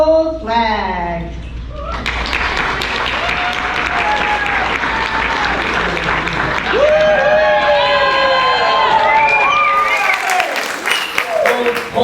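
Audience at a patriotic community program applauding and cheering, sustained loud clapping with shouts and whistles, after a voice talks briefly at the start.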